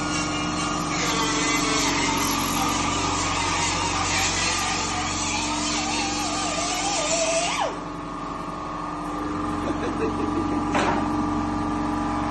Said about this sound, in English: I'm using this bead roller by Bailey